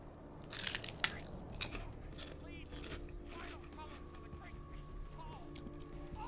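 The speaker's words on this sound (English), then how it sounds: "I'm just sitting here munching my way through an entire bag of bloody prawn crackers" Prawn crackers being crunched close to a microphone, with a few sharp, bright bites bunched in the first second, then quieter chewing beneath steady background game music and low hum.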